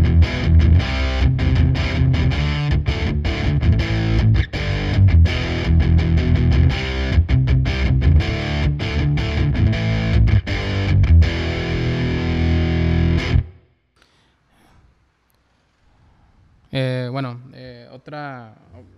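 Low-gain distorted electric guitar through a Stak Fx Hunab Ku distortion pedal plays chords and notes steadily and loudly for about thirteen seconds, then stops; someone speaks briefly afterward.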